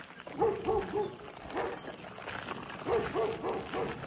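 German Shepherd barking from a neighbor's yard in a residential neighborhood, several moderately loud barks in two bursts with short gaps, at mid distance.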